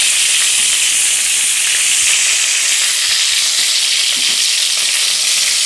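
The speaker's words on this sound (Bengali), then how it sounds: "এবার ভালো করে নাড়াচাড়া দেবো।" Food fries in hot oil in a pan, a loud, continuous sizzle and hiss with faint scraping as it is stirred, with no talk over it.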